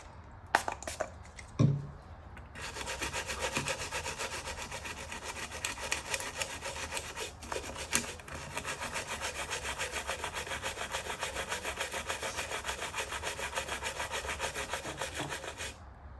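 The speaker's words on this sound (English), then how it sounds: "So I think we'll just keep scrubbing for now." Rust is scrubbed off Atari Lynx 2 parts with fast, rhythmic rasping strokes that run continuously and close up after a few opening taps and knocks.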